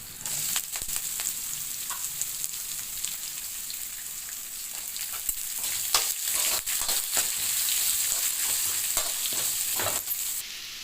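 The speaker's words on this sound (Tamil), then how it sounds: "இப்போ கட் பண்ணி வச்சு வெங்காயம் போடுவோம்." Onions frying in a pan for South Indian garlic pepper rice, giving a steady loud sizzle with scattered crackles and pops throughout, and no voices.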